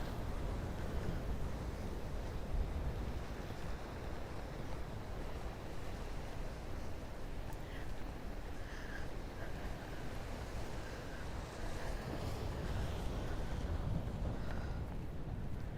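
Sea surf breaking against the rocks of a breakwater at sunrise, a steady, dense roar of waves with wind buffeting the microphone, continuous and fairly loud with no voices.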